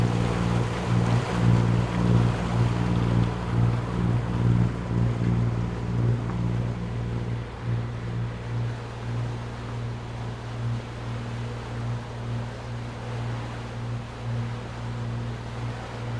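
A sailing boat runs under engine power through a bay near Fethiye, a steady low motor drone with water wash and wind noise holding constant throughout, no voices.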